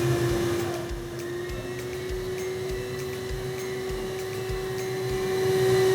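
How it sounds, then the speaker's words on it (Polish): A vacuum cleaner switching on inside a claw-style prize machine, a steady loud motor whine with a constant high hum over a rumbling low drone, running without pause and close by. "Odkurzacz się załączył."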